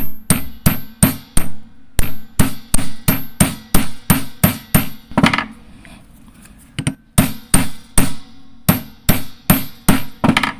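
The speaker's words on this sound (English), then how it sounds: "Don't just shove a 1/2 inch in there and hammer it in there" Repeated sharp metallic hammer blows driving a socket into place while servicing a Mitsubishi GDI engine, struck in quick bursts of several hits with a short pause midway, close and loud.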